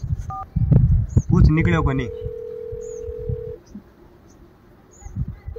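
Phone dialing tones while a call is placed: a couple of quick tone blips, then a steady electronic tone holding for about two seconds, with people talking over and around it.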